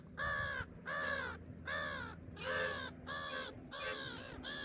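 Crows perched in a group caw loudly and close by in Ladakh, a series of harsh, drawn-out calls repeating in steady bursts with short gaps between them.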